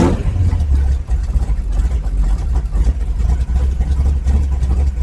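A 1955 Chevy's big-block V8 idles with a deep, lumpy rumble, loud and close, pulsing unevenly throughout without any talk over it.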